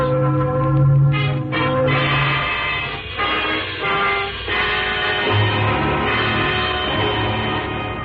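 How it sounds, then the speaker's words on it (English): Wedding church bells ring loudly and continuously, layered tones swelling and overlapping with a rich, sustained clang. "Those are wedding bells"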